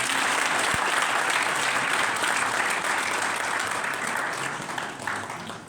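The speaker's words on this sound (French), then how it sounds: "est-ce qu'on peut l'applaudir?" A large crowd applauding in a French hospital during a cardinal's visit, loud continuous clapping from many people that holds steady and tapers slightly at the end.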